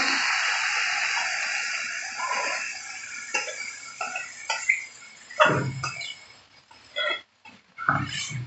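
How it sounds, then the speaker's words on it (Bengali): Hot water goes into a pan of simmering mutton curry, setting off a strong sizzling hiss that fades into bubbling, spluttering pops and crackles as the liquid settles. "এবার আমি জল দিয়ে দেবো"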